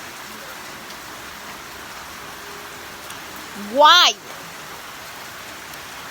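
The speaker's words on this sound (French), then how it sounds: "il pleut des cordes" Heavy rain pours down steadily outdoors, a dense, even hiss of water that runs the whole time, with a voice speaking briefly over it.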